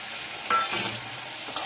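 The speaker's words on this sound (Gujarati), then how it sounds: "હવે આપણે ઈંડા નાખી દઈશું," Eggs added to roasted masala in a pan hiss and sizzle steadily while a spoon scrapes and stirs, with a couple of louder scraping strokes up close.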